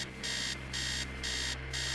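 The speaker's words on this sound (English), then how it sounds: "Upstairs, the sound of an alarm clock blaring." An alarm clock blares upstairs in a run-down house, repeating electronic beeps in a regular on-off rhythm, moderately loud over a low steady hum.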